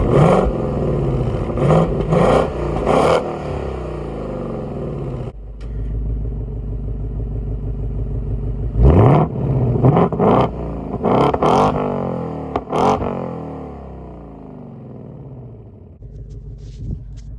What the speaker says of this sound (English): I absolutely love the factory exhaust on this. It sounds really, really good.